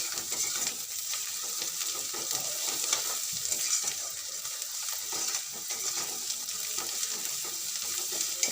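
Garlic paste fries in a pan with a continuous bright sizzle while a utensil stirs and scrapes it steadily, close and fairly loud, with no talking.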